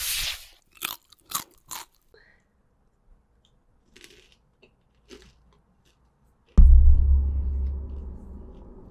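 Crispy dried champignon mushroom snack is crunched in several sharp bites, then the sound drops to near silence with faint chewing before a loud low rumble of handling noise takes over close to the mic.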